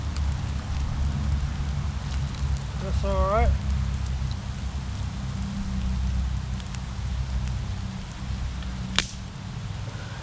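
Rain patters steadily around an outdoor campfire with pork steaks cooking over the coals, a soft continuous hiss with occasional crackles and one sharp snap near the end, while someone speaks briefly in the middle.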